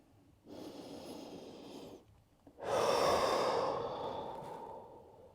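Slow breathing during a skipping rope workout: one soft inhale through the nose, a short pause, then a longer, louder exhale out through the mouth, close and alone.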